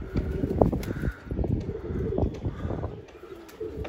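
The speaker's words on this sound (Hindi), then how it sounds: "अरे ये पुरानी कबूतरी आई है भाई" A racing pigeon landing after release 50 km away, with soft flapping and rustling and low cooing calls close by, mixed with outdoor background noise.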